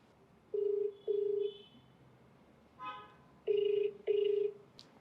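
A phone ringback tone sounds twice as a call is placed, each time as a pair of long electronic tones. Between the two rings there is a brief beep, and a faint voice can be heard in the background.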